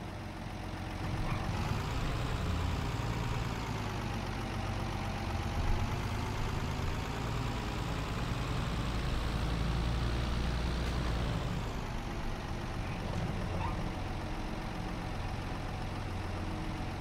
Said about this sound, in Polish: Podjadę od razu ciągnikiem.